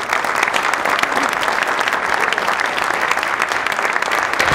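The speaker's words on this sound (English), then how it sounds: "Please join me in a round of applause." Audience applause after a presidential panel on translation, innovation and entrepreneurship in Boston: a loud, dense, continuous clapping from a sizable room, steady and even from start to finish with no voices over it.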